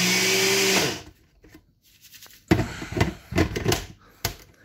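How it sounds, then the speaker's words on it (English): A small Ninja blender whirs loudly for about a second, grinding ingredients into fine powder, then stops; quieter clattering and knocking follow as the container is handled. "this is my little ninja blender"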